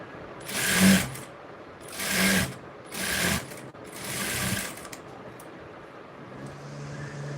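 Sewing machine stitching a hook strip in several short bursts of rapid mechanical whirring, four runs separated by brief pauses, close and fairly loud, with no talking.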